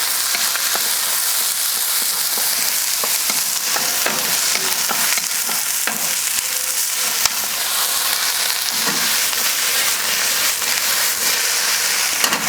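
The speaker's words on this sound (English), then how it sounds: "So, onions, peppers. I'm going to stir fry them for a little bit." Onions and peppers stir-frying in a smoking-hot seasoned wok on a Kamado Joe grill, a loud continuous crackling sizzle with occasional spatula scrapes throughout.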